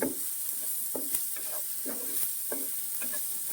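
Dried red chillies sizzle steadily in hot frying oil for a prawn roast, while a spoon stirs them in regular, close, scraping strokes about every half second.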